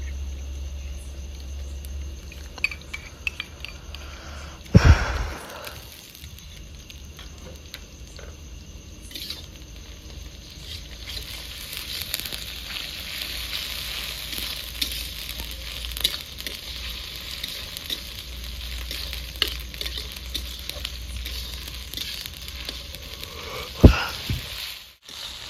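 Ginger-garlic paste sizzling and frying in a pan while a fish curry is cooked with lentils, a steady moderate hiss with a few sharp clatters of a utensil against the pan, no voices.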